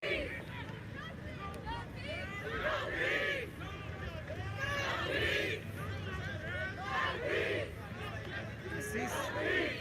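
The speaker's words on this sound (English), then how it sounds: "As the crowd gets a little louder here" Dense crowd hubbub fills an intersection during a riot, many voices chattering and shouting at once, swelling in waves and growing louder as it goes, with traffic rumbling faintly underneath.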